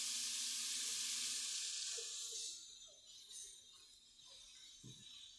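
Tomatoes and garlic scapes stir-frying in hot oil in a wok, a bright hissing sizzle that is loud at first and then settles lower, with soft scraping stirs and a light clink near the end.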